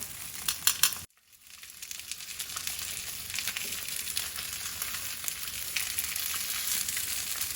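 Fish fillet searing in a hot pan, a brief clatter and then a sudden drop as it is moved, followed by steady loud crackling sizzle that builds and continues, with no talking.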